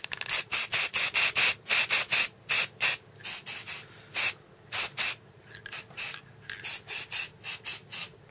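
Rapid short bursts from a spray can lay undercoat onto miniature models, a hissing pattern of about two dozen close, loud puffs with brief pauses between them.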